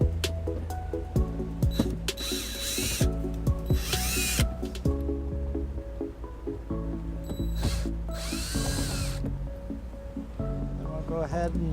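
Power drill whirring in short bursts to back out Phillips screws from the cargo-area trim doors of a 2010 Toyota RAV4, with ratcheting clicks between runs, close and loud.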